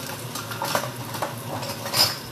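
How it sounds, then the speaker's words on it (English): A metal spoon scrapes and tosses chicken with garlic around a pan, producing quick clinks and scraping strokes over a light sizzle, close up and without speech. "I'll use my metal spoon. That way I can scrape up all the garlic and bits that are on the bottom of the pan."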